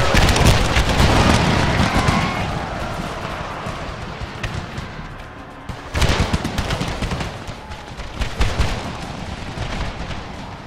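Massed musket volleys crackle and boom across a Civil War battlefield in a strategy game, a dense roar of firing that fades, then a second heavy volley erupts around the midpoint and rolls on, loud and continuous.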